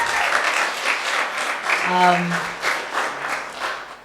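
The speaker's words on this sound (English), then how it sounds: "let's give them a thunderous round of applause" Audience applause for music and drama students at a school show, a moderate crowd clapping with uneven surges, a brief tonal voice or cheer rising above it midway.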